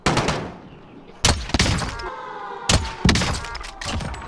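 Sharp gunshot reports in an online shooter game, several loud cracks spaced unevenly with brief echoing tails between them.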